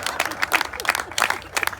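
An audience at a live Hindi comedy show gives thin, scattered applause, a handful of quiet irregular claps in uneven bursts rather than a full ovation.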